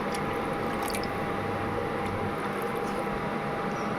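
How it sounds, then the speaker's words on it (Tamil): A steady, even stream of water pours into a cooking pan of egg curry base, a constant hiss-like splash with no breaks. "இப்போ தேவையான அளவு தண்ணி ஊற்றிக்கலாம்"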